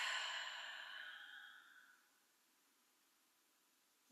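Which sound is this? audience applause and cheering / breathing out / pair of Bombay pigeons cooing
breathing out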